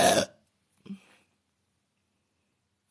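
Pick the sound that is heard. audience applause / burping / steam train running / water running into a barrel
burping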